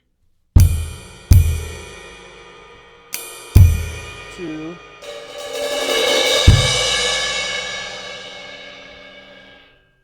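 A level 1 drum set plays a short two-measure pattern: several sharp, loud hits with a bass drum downbeat, then a wash of ringing cymbal that swells and slowly fades. There is a brief spoken moment in the middle.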